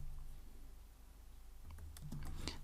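Quiet typing of code on a computer keyboard: soft irregular key clicks, sparse at first, then quicker bursts of tapping toward the end, with no talk.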